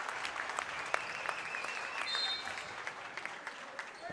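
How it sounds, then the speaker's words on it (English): Crowd in a high school basketball gym gives senior girls a round of applause, a steady moderate clapping with sharp individual claps and a faint whistle. "these senior girls are getting their curtain call moment and getting a round of applause from the crowd here."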